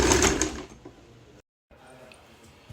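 A sewing machine stitches fabric for a Rajputi kanchali in a short loud burst, then fades to a softer hum after a brief pause.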